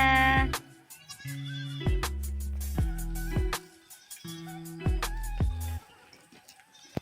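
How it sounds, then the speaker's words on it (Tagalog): Goats bleat repeatedly, several loud, wavering calls overlapping in a rhythmic series from a nearby herd, with short pauses between bursts. "Ito na yung aking mga kambing."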